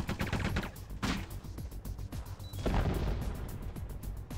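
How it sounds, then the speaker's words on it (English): Gunfire in the video game Metal Gear Solid: The Twin Snakes: a rapid burst of sharp shots followed by scattered single cracks and a heavier impact, fairly close and punchy, with no speech. "I don't know what you're shooting at."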